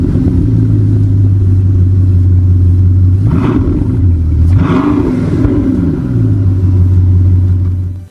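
A Bugatti Chiron Super Sport 300+ with its 8.0-liter quad-turbo W16 engine idles with a deep, loud rumble, then revs up twice in quick succession, each rev rising and falling before settling back to idle.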